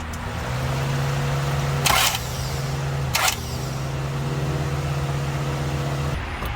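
A car engine cranking over with its cylinder head removed: a steady buzzing starter-motor whir with two brief sharp bursts in the middle, then a sudden stop.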